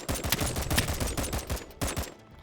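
Rapid bursts of DMR rifle fire in the shooter BattleBit Remastered, a dense run of loud, closely spaced shots with brief gaps, fired in quick spam with no talking.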